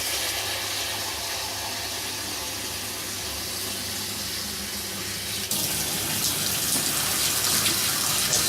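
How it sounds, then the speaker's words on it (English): Hot water pours steadily into a homebrew beer kit, a continuous rushing splash like a running tap that grows slightly louder and brighter partway through, with no talking. "We'll put a bit more hot water again."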